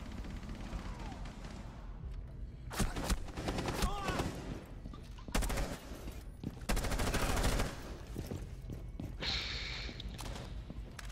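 Bursts of gunfire from Rainbow Six Siege ranked play, loud clustered shots in several sharp volleys over game ambience, with a player's voice gasping and reacting between them.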